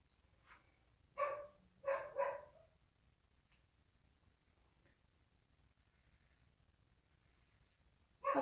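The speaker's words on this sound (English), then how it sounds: "that's why you can hear the dog." A dog barks a few times in short bursts in the background, fairly faint, with quiet gaps between and another bark at the end.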